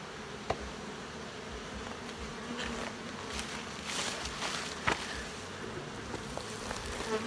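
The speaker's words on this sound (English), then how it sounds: "every frame has a bunch of bees cleaning them" A steady, dense buzz of many honey bees on hive frames close at hand, with a few faint knocks and taps breaking through.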